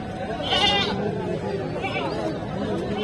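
Native goats bleat at the Amraid livestock market in Gazipur before Eid sacrifice. Two or three nasal bleats stand out, the first loud and near, over constant crowd chatter and talking.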